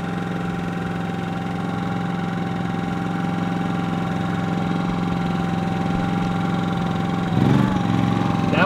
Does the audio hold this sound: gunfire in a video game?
no